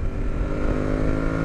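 An Aprilia Tuareg 660 motorcycle accelerates hard into a wheelie in second gear, its engine note a loud, steady, close drone holding high revs.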